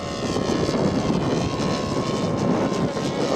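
An electric scale model airplane makes a steady flyby at a team scale competition, its motor hum and propeller drone holding loud and continuous across the pass with no voices.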